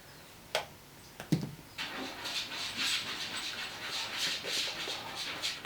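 A pet dog whimpers indoors, starting with a few sharp clicks and thumps, then a run of thin, high, wavering whines and panting that rise and fall close by, with no talking.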